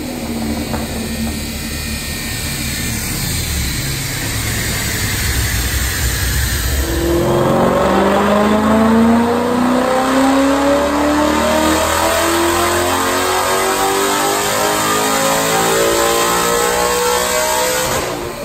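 A 2014 Mustang GT with manifold headers, intake and cams revs hard on a chassis dyno through back-to-back full-throttle pulls, a loud engine roar climbing steadily in pitch for many seconds, with no talking over it.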